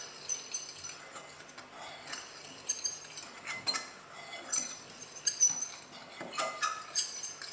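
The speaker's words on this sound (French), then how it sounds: "et on va mélanger" A utensil stirs cornstarch into a mixture in a mixing bowl, making soft, irregular clinks and scrapes against the bowl at close range, with no talking.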